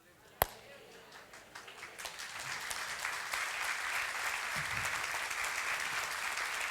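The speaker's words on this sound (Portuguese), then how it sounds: "Você está aplaudindo, está muito fraco, pode ser mais forte." After a single sharp knock, applause swells from scattered claps into a steady, fairly faint round of clapping that continues to the end.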